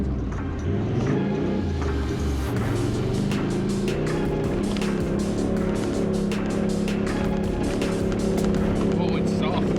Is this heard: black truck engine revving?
yes